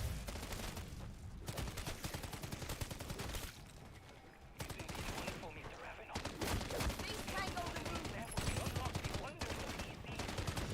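Rapid automatic gunfire from a high-capacity weapon in MW3 Zombies, the Dark Aether mode, sustained in long bursts with brief pauses and game effects layered in, while a player talks over it.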